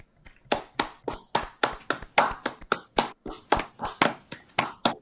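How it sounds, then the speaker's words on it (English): A few people clapping for the Diamond League champion on a podcast, close, loose and uneven handclaps in a quick irregular rhythm, no talking over them. "Can we please put our hands together and clap for the Diamond League champion"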